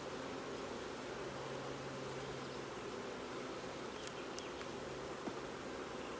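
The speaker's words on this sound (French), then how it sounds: "J'attends que les abeilles se soient dégagées de la petite languette" Honeybees at a small nucleus hive being opened with smoke, humming in a steady, dense drone close by, with a few brief higher buzzes of individual bees passing near.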